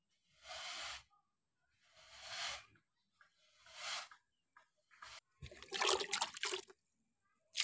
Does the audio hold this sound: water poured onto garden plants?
yes